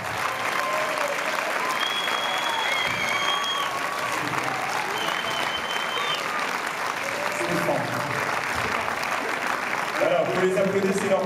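Audience applause fills a Paris film premiere as the directors take the stage, a dense, steady wash of clapping from a large crowd that holds at full strength throughout, with a few voices and cheers rising near the end.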